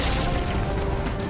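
A grenade explodes in the Halo video game, a dense loud crashing blast filling the short moment without speech.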